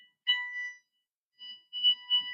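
An electronic alarm beeps a few times during an online talk, thin high tones sounding in short bursts with gaps between them, faint and somewhat distant.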